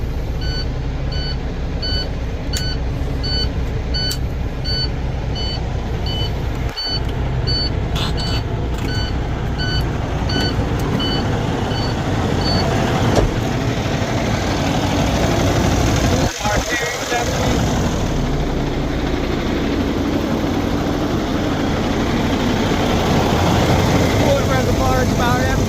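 A 2016 International Prostar truck engine, with a fresh starter, runs at a steady low idle close by, a rumbling drone with intermittent beeps over it and someone talking at points.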